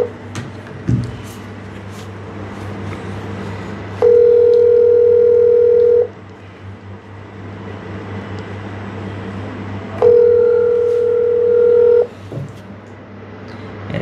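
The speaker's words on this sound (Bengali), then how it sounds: "কলিং হচ্ছে" A phone call rings out on the line, with two evenly spaced, two-second ringback tones over a low hum of background noise.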